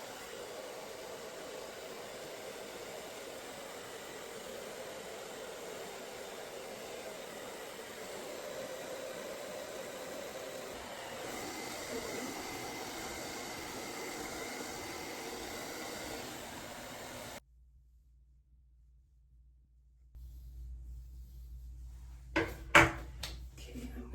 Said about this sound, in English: Now, I'm going to blow dry my hair.